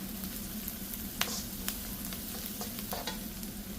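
Asafoetida and coriander powder sauté in a pan for tomato rice, giving a steady soft sizzle with light scraping stir strokes and a couple of small clicks, close and continuous with no talking.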